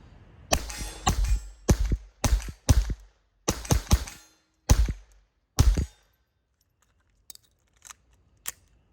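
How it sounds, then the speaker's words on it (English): Suppressed rifle fires CCI standard ammunition in about ten sharp, close cracks, spaced under a second apart in a steady string, followed by quieter scattered clicks and clinks. "Now we're gonna shoot CCI standards first and then go into the subsonics."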